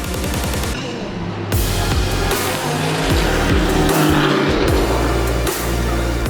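GT race cars tear past at the Jerez circuit in a 2023 GT Winter Series race, engines howling loud and close with rising and falling pitch as several cars pass in quick succession.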